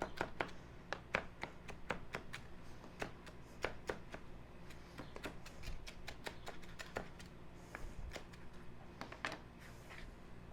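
A knife chops fresh herbs roughly on a board while seared scallops are being prepared, giving a rapid, steady run of crisp close taps for about ten seconds with no talking.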